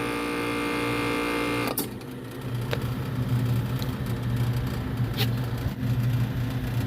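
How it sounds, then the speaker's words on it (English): A faulty Lennox air conditioner compressor runs with a steady, rough mechanical drone and low hum, a sharp click near the start and a few faint knocks over the continuous noise. "The compressor doesn't sound real good at all."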